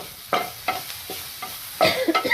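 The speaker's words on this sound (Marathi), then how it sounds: "त्याच्यासाठी आपण ते फ्राय करतानाच त्यात मीठ घालणार आहोत" Chillies frying with salt in a pan for homemade chutney, heard as a few separate sizzling bursts as the pieces are stirred, with a denser crackle toward the end and no talking.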